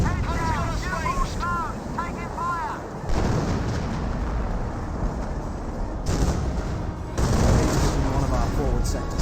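Mortar impacts and rolling gunfire fill a Company of Heroes battle between Panzer Elite and British forces, with repeated explosive bursts and chattering fire throughout and a voice talking over parts of the fight.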